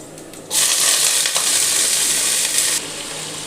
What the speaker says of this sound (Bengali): দেখো রসুনগুলো কীরকম লালচে করে ভাজছি